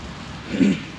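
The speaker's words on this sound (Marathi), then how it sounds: "बारीक बारीक पाऊस चालू आहे, मोठा पाऊस चालू आहे, छोटा पाऊस चालू आहे, पण पाऊस चालूच आहे." Steady heavy rain hissing down in the Konkan near the Mumbai–Goa highway, with a brief low rumble swelling for a moment in the middle.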